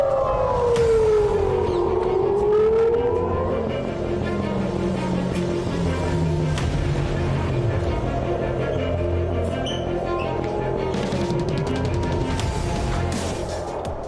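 Air raid alert sirens wail across Tel Aviv during a missile and drone attack, long rising and falling tones overlapping from several directions, loud and sustained over a constant rumbling background with no voices.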